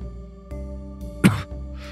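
A character in the Cthulhu Confidential video game gives a single short cough over a quiet, steady tonal background hum, with a softer breathy sound just after.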